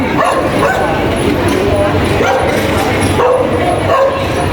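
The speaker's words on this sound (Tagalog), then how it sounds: "Yung aso natahol." A dog barks repeatedly amid a noisy room, with voices talking in the background.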